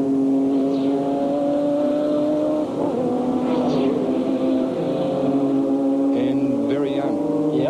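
Formula Holden open-wheel race cars at Amaroo Park in 1989, a loud continuous engine drone with shifting pitch as cars circulate, under a commentator talking throughout.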